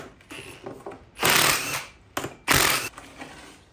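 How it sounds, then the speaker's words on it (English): Ring gear bolts come off a Dana 30 axle with two loud bursts of a power tool whirring, separated by a short pause, amid metallic clinks and rattles up close. "I'm gonna go ahead and spin these bolts off real quick"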